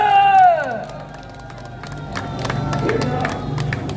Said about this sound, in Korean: 여러분 이 대목에서 뜨거운 박수를 부탁드리겠습니다.